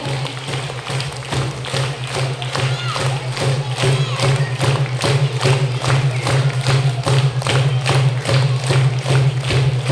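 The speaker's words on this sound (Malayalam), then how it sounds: "ഒരു മിനിറ്റ് അങ്ങനെ കൈയടിച്ചോണ്ടെന്നെ ഇരുന്നോട്ടോ," An audience claps hands together in steady rhythm, a continuous run of evenly spaced claps over a sustained musical drone and crowd murmur, the pulse holding throughout the stretch.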